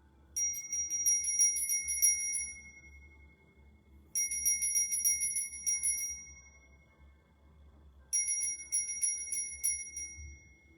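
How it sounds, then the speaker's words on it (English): A meditation bell is struck three times at steady intervals, each bright ringing tone sustaining for about two seconds before fading, with a quiet low hum underneath. "I'm just going to ring the bell here"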